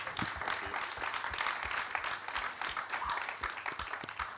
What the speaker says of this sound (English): I think we should give a massive round of applause to them as well.